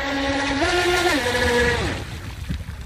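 Feilun FT011 brushless RC speedboat motor whining loudly on water, a rising and falling harmonic tone that holds steady, then drops off and cuts out near the two-second mark, leaving only faint water and outdoor noise.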